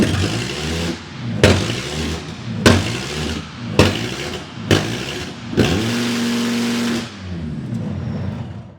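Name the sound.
5-cylinder Volkswagen engine in pro drift car idling high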